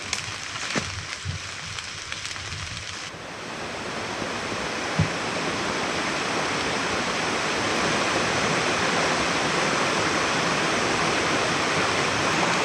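A rushing creek rolls hard near a rock overhang, making a loud, steady broadband roar that builds after a few seconds of fainter flow with some scattered knocks and then holds constant and close.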